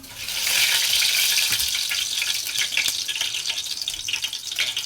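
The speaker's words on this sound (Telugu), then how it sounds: "ఇందులో నేను ఓన్లీ జీలకర్ర వేస్తున్నాను" Cumin seeds sizzle in hot oil in a pan for a tomato rasam and potato fry, a bright crackling hiss that swells in quickly and holds steadily, close and fairly loud.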